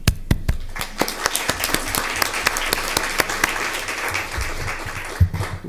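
Audience members at a school board meeting applaud, opening with a few sharp separate claps that swell into a steady round of clapping and then trail off into scattered claps.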